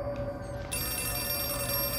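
A telephone rings steadily and close by inside the horror video game Outlast 2, a continuous electronic bell tone over low ambient game noise.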